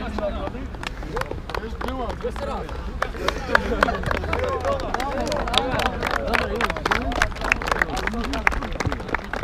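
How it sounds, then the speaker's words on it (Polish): Warm applause for a youth football team at a Widzew event, with a crowd clapping steadily and loudly for the whole stretch and a murmur of voices underneath. "Wielkie, wielkie brawa dla nich."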